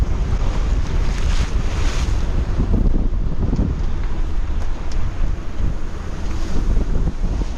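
Ocean waves surge and wash around a sailing boat on a settling sea after gales, with steady wind rushing across the microphone throughout and no voices.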